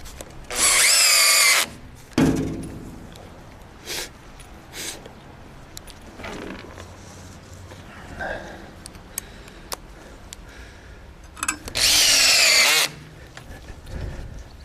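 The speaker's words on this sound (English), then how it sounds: "that you hear is a clutch that helps you not overdrive screws till they spin" A cordless power drill drives screws into wood while wall framing, two loud whirring bursts with the clutch ratcheting and slipping at the end of each, separated by quieter tapping and someone talking.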